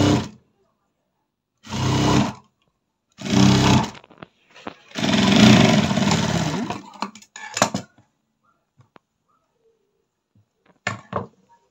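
Sewing machine stitching fabric for a blouse, running in short loud bursts of about a second each, then a longer run of roughly two and a half seconds, separated by near-silence, with brief quieter clicks toward the end.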